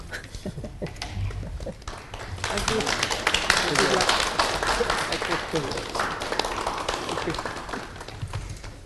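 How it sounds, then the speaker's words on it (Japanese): An audience at a press club event applauds as the session closes, sustained clapping that swells in the middle and tapers off. A voice speaks over the start. "皆さん拍手でお願いします"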